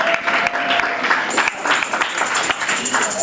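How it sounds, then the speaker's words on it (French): A church congregation applauds in a Haitian French-language service in Queens Village, New York, with steady, dense clapping running throughout and voices mixed in underneath. "On nous applaudit, mon Dieu, pour le frère Wilkinson Théodore."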